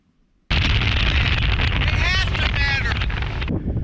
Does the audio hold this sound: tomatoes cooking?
no